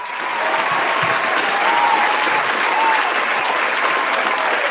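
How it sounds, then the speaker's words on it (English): A large audience at the 7th Annual Brammy's awards show breaks into steady, loud applause that swells after the first half-second and holds throughout, with faint voices mixed in. "Man, round of applause, Miss Rhea Ripley."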